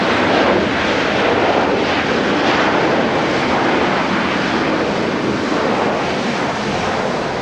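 Japan Airlines Airbus A350-900 at Haneda, its jet engines spooling up in a loud, dense, continuous roar that holds steady without speech.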